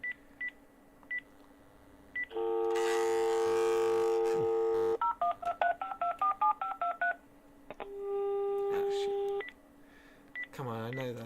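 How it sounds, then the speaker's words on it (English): A telephone dials out on a live radio show, a string of clipped touch-tone beeps, long steady tone blocks and a rapid run of keypad tones, loud and close, with a voice heard near the end. "We're going to phone someone randomly now on the show."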